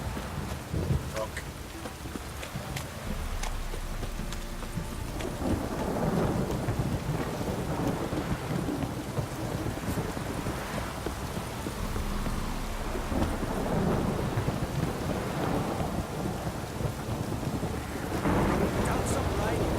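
Steady rain with rolling rumbles of thunder during a stormy scene in The Witcher 3: Wild Hunt, continuous throughout, with someone talking over it.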